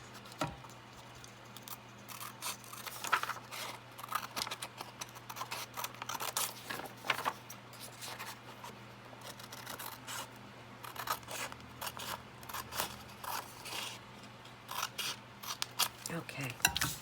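Scissors cutting through a sheet of junk mail paper, with a run of close, quiet, crisp snips and rustles over a low steady hum.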